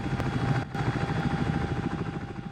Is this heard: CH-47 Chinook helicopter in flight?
yes